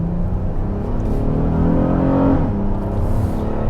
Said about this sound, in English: once you put your foot to the floor, the VTEC kicks in and it sounds pretty good